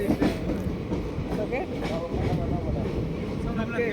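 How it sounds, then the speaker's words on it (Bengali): A passenger train leaves New Farakka railway station with a continuous rumble and rattle of rolling wagons close by, and a voice speaks over it. "ট্রেন এই মুহূর্তে ছেড়ে যাচ্ছে নিউ ফারাক্কা রেলওয়ে স্টেশন।"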